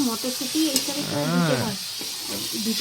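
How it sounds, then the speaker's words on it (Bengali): Cabbage with tomato stir-fried in a pan, a close sizzle under stirring, with a humming or whistling tonal sound rising and falling through the middle and a brief sharp tick early on. "নাড়িয়ে দেবো ভাজি টমেটো দিয়ে তো বাঁধাকপিটা"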